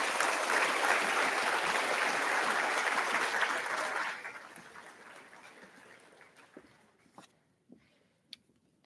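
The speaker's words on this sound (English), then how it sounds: "So a nice round of applause for our amazing faculty." Audience at a nursing school white coat and blessing of the hands ceremony applauds the faculty, loud sustained clapping for about four seconds, then tapering off to scattered claps and small noises.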